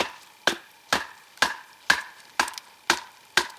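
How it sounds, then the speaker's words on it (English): Sharp wooden knocks of a Becker BK-7 knife being batoned through green pine, seven crisp close strikes at an even, unhurried rhythm, each ringing briefly before the next blow, with no talking. "We're going to baton this and see how this knife holds up to batoning."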